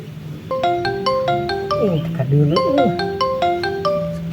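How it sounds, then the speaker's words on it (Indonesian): Mobile phone ringtone plays a repeating bright melodic pattern, loud and close, with a voice speaking over it in the middle before the tune resumes. "Gandeng na ieu HP na saha tuh?"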